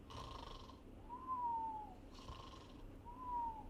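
A voice imitates snoring, two slow rasping breaths with a rising whistly tone, evenly spaced and fairly quiet, with no talking, contrasted with sleep apnea.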